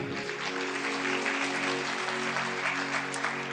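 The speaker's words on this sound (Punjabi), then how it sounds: "ਤਾਲੀ ਮਾਰੀਏ ਜ਼ੋਰ ਤੇ।" A congregation at a sermon claps loudly and continuously, a dense, even roar of applause sustained throughout with no voices over it.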